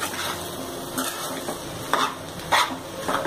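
Crushed boiled potatoes being stirred into a tempering in a pan, with repeated scraping strokes of a spatula over a light sizzle, close and rhythmic, a brief word spoken near the start.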